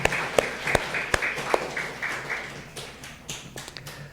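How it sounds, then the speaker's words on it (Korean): A church congregation claps after a choir performance during a worship service. The applause is scattered and uneven, made of sharp individual claps that rise briefly and then taper off. "다시 한번 우리 하나님께 영광의 박수 올립시다."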